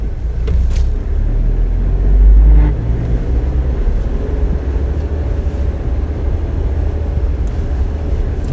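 Suzuki Jimny engine droning steadily while driving, a continuous low rumble with road noise from inside the vehicle, briefly swelling louder near the start, with no talk.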